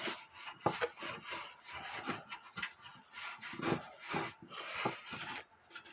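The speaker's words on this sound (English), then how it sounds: "And with paintbrush, you rub it around, and that way it gets in all the hard to reach spots." A paintbrush rubs oil onto a wooden clock case in repeated brisk scrubbing strokes, close and fairly quiet, with bristles scraping over the wood in an uneven rhythm.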